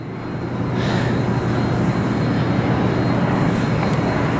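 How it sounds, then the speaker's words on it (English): Airplane noise heard from a city rooftop, a broad continuous roar that swells in and stays loud, with a steady low drone beneath and no voices. "There's more airplanes."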